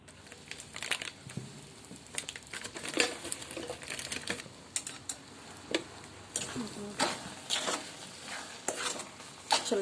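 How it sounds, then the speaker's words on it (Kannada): Turmeric and chilli powder frying in oil for pickle, a soft sizzle under repeated scraping and stirring of a spoon against the pan, with clinks of utensils throughout. "ಎಣ್ಣೆ ಹಾಕೋರಿ. ಅರಿಶಿನ ಒಣ ಖಾರ ಪೌಡ್ರ್, ಸ್ವಲ್ಪ ಖಾರದ ಪುಡಿ ಹಾಕೊಂಡ್ಬಿಡೋಣ್ರಿ."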